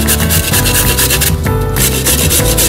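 A carrot is rubbed hard against a fine kitchen grater in loud, continuous rasping strokes, close up, with a short pause in the middle.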